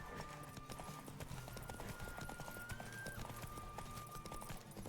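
Horse hooves gallop in a rapid steady clip-clop during a race in the video game Witcher 3, with a faint sustained tone in the background.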